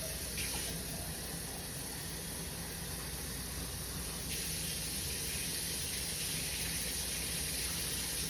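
Tap water runs steadily from a kitchen faucet over fresh cilantro being rinsed, a continuous soft hiss and splash with no voices.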